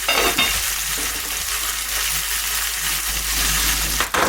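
Cut sausage pieces sizzle loudly in a pan of simmering endive fondue with mustard, a steady, dense frying hiss that fills the whole stretch, with faint stirring underneath.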